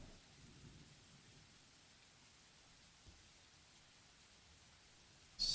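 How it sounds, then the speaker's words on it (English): Steady rain hiss with low rolling thunder during a naval battle in the warship strategy game Rule the Waves 3, faint and continuous, ending in a sudden louder burst. "It's raining now."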